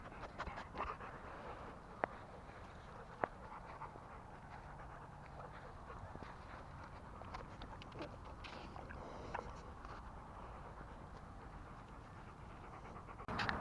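A dog pants steadily at a dog park, the quick breaths close but soft under a broad outdoor background wash, with a couple of sharp knocks along the way.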